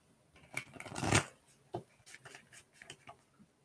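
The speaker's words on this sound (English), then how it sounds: "just do one more shuffle" Cards are riffled and shuffled close by: one loud fluttering burst, then several quieter snaps and taps as the deck is handled.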